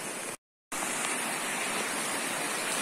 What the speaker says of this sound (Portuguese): Então aqui é a parte de cima, né, da cachoeira.